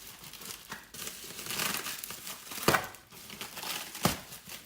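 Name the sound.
unwrapping bubble wrap and clear packing tape from seats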